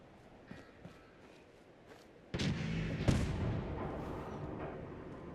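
Gunfire in the video game Fallout 4: a few faint distant cracks, then a sudden loud boom and a second blast that fade into a sustained rumbling tail.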